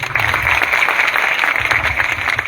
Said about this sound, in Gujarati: પેલા જેતપર ગામને જોરદાર તાળીઓ વધાવી